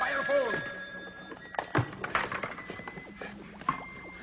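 A telephone bell rings in a fire station in a comedic show, sounding as a bright metallic trill early on, followed by thuds and clatter. People talk over the sounds.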